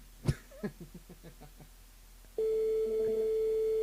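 A phone line on a live FM radio morning show gives a loud, steady electronic tone, following a few coughs and throat noises at the start.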